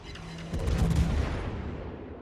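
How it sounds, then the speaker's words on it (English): Naval gun salvo firing in World of Warships: a deep booming burst of cannon fire around the middle, rumbling and rolling off into a fading low roar. "oh, good salvo there"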